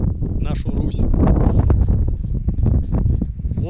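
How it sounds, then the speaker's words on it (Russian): Strong wind gusts over an open village field, roaring and buffeting the microphone loudly and continuously, with faint voice sounds mixed into the rumble. "дует сильный ветер"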